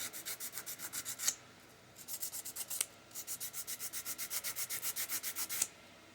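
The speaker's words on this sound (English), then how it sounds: "this piece needs to be sanded here a little bit" Sanding a small plastic model piece by hand, close rapid rhythmic rubbing strokes in three bursts separated by brief pauses and sharp scrapes.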